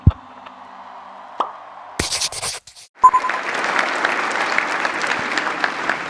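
Audience clapping at a political speech breaks out after a brief thump and a short burst of noise, then settles into steady, moderately loud applause that continues without voices.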